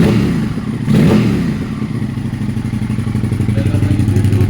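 The new engine of a Suzuki SV650 motorcycle runs close by with a loud, rhythmic thumping idle, and a brief rev swells near the start before it settles back into an even pulse.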